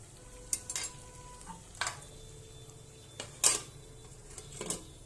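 A spatula stirs chicken skin and pumpkin in a pan over a faint sizzle, making a few separate scraping clinks spaced out at a gentle pace, fairly quiet and close.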